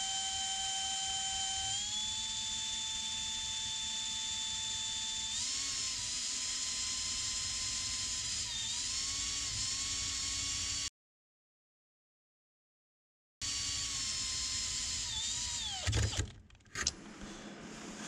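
A cordless electric drill spins a Waterlily turbine generator on a bench test, giving a steady high whine that shifts in pitch several times, cuts out, then restarts and winds down as the automatic brake engages.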